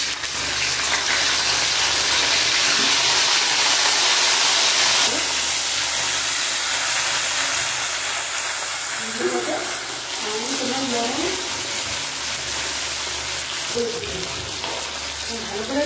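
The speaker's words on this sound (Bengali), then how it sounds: "এদিকে ফোড়ন হয়ে গেছে, এখন পরিষ্কার করে কেটে রাখা ধুয়ে রাখা ভেন্ডিগুলো দিয়ে দেবো।" Washed, cut okra dropped into hot oil with tempering spices for mustard okra sizzles in a loud, steady hiss that fills the whole stretch, with faint voice-like sounds near the end.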